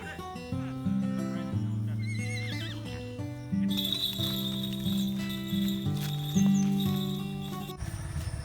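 A horse neighs and whinnies repeatedly in long, loud calls close by, with a faint clip-clop of hooves beneath and no talking.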